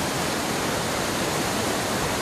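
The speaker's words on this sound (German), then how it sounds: "Sprudelndes, fallendes, wirbelndes, glitzerndes, erfrischendes Wasser." Bubbling, falling water rushes continuously in the Orkhon Valley of Mongolia, a dense, loud, unbroken wash with no voices.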